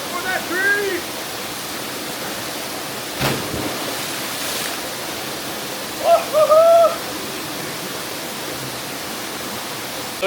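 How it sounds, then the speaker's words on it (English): Irakawa Falls, a waterfall in Ishigaki, Japan, a constant close rush of falling water, with brief voices talking over it near the start and again partway through. "So yeah, Irakawa Falls."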